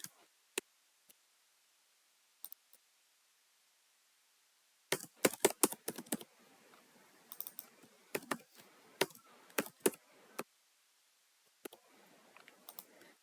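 Someone typing code on a computer keyboard, with scattered isolated key clicks giving way to bursts of rapid close tapping, quiet overall with pauses between runs.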